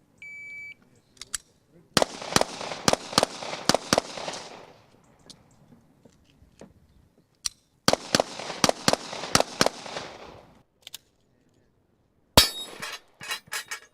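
At a military shooting competition, sharp gunshots crack in quick volleys, two rapid bursts several seconds apart, followed by a final cluster of shots, loud and close with quiet gaps between.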